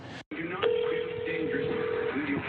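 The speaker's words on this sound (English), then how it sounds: "that's you dialing the number" A phone dials a number, giving a short clicking tone and then a long steady beep, with faint background noise around it.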